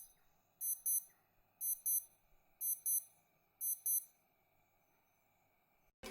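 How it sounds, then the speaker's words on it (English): A Skmei 2307 digital watch alarm chirps in four evenly spaced bursts of quick double beeps, thin and fairly quiet against a near-silent background. "The Skmei's alarm, while present, is less audible and might not be as practical in noisy environments."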